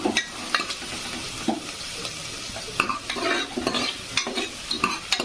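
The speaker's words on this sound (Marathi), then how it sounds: "छान असं कांदा परतून घ्यायचं आहे" Onions sauté in a pan with curry leaves, a soft steady sizzle broken by repeated scraping and clinking stirs, fairly close and quiet, with no talking.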